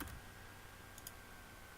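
A single key press on a computer keyboard, the G key, gives a brief soft click at the start, then faint room noise with no talking.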